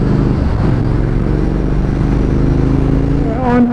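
A Triumph Thruxton R motorcycle rumbles at steady speed on a highway, with loud, continuous engine drone and wind close up, and a voice talks over it throughout.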